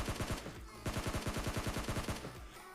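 Gunfire in the PUBG Mobile Lite battle royale game: a rapid automatic burst of shots, then a short pause and a second longer burst of evenly spaced shots, loud and close.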